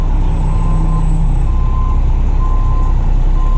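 A truck maneuvering with its reversing alarm sounds a loud, steady series of rapid repeating beeps over the low rumble of the engine, close by.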